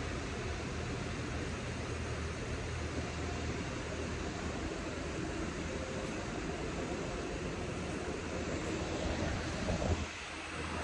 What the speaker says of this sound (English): when it's coming over this little bit of waterfall, this rapids right through here